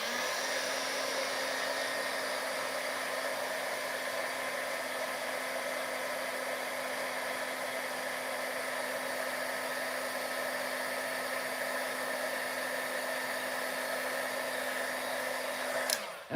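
A heat tool blows hot air to melt embossing powder on a handmade card, a steady whirring hum held for about sixteen seconds, then cut off abruptly at the end, with no talking.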